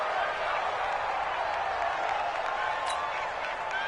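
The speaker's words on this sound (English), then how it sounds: "the crowd getting into it" Crowd cheering in a video game football broadcast on PS4, a steady broad roar of stadium noise filling the whole stretch at an even, moderate level with no talk over it.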